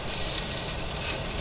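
Beef pieces browning in a floured pan aboard a boat, giving a steady, close, continuous sizzle and crackle with no talk over it.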